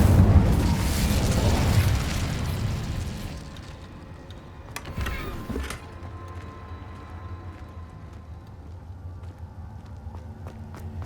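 In Hogwarts Legacy, an Incendio fire spell erupts with a loud roaring burst that fades over a few seconds, followed by a brief crackling flare and quieter ambient rumble.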